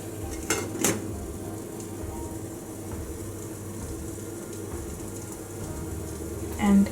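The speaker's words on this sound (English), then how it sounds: "Then I place this vessel and I'll" A metal vessel is set into a heated idli steamer over a medium flame and covered with its lid: two clanks near the start and a metallic knock at the end over a steady low hum.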